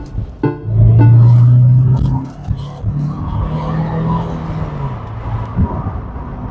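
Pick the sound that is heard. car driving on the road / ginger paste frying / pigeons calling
car driving on the road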